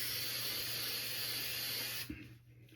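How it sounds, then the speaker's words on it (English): A steady close aerosol hiss of hair spray for about two seconds, then it cuts off abruptly into quiet room tone. "So I'm also going to spray some around the front line of my head."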